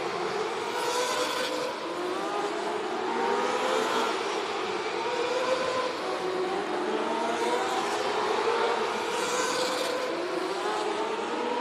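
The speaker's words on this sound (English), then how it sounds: "Joe Toth looking for a little bit of extra speed here, trying to get back into that top 28." Race car engine on a qualifying lap at Boardwalk Hall in Atlantic City, a steady droning roar with rising and falling pitch that holds throughout, moderately loud and continuous, with no talk over it.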